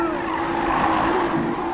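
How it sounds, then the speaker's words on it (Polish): A Ferrari Enzo drifting in the racing game Need for Speed Rivals gives a continuous loud tire squeal over an engine drone. "Oj, trochę ciężko tym Ferrari się driftuje."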